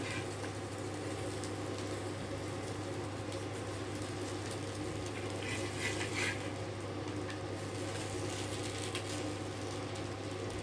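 A steady, faint sizzle of stuffed snack pieces frying in a little oil, a continuous crackling hiss with no voices.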